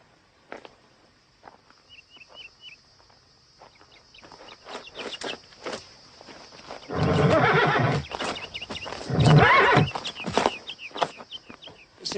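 Horses snort and neigh in a Western setting, with intermittent hoof clip-clops throughout and two louder bursts of neighing and movement midway; chickens cluck faintly in the background.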